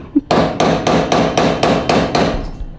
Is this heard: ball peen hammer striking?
yes